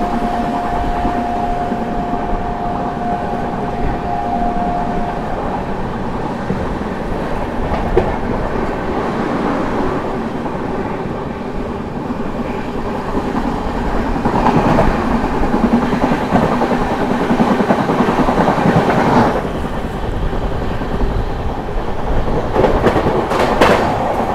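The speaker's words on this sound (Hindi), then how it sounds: "हमसफर एक्सप्रेस जो है ओवरटेक करने जा रही है गया दिल्ली सुपरफास्ट स्पेशल को।" A Humsafar Express train overtakes the Gaya–Delhi superfast special on parallel tracks, producing a loud continuous rumble of wheels and rail clatter that swells and shifts as the carriages pass close by.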